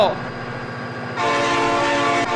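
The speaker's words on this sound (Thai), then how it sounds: "มาแล้วรถไฟมาแล้ว" A train in the BeamNG.drive video game sounds its horn as it approaches, a loud sustained blare that swells partway through over a steady rumble.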